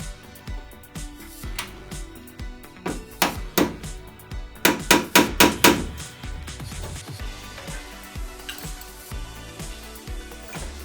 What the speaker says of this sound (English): I'm going to take the star bit and knock it in with a hammer, see if it will stay in there